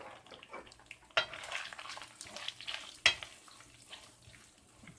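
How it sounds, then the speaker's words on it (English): Puttanesca pasta sauce stirred in a pan, a soft steady sizzle with two sharp clicks of the spoon against the pan, close and fairly quiet, no voices. "Stir it around a bit."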